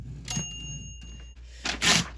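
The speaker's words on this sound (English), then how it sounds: "And you gotta hear the bell." A typewriter's carriage-return bell rings once with a bright, clear ding that hangs for about a second. Crisp mechanical clacks and a rattling carriage slide follow.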